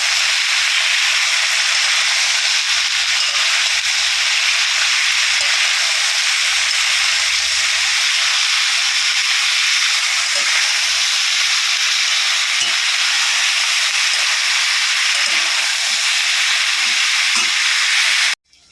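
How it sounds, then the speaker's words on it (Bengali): Mixed vegetables frying in a pan for a Bengali panchmishali torkari give a steady loud sizzle and hiss, with light scraping from stirring toward the end. "আমি সবজি দিয়ে দিয়েছি, এবারে আমি এটাকে ভালো করে নাড়াচাড়া করব।"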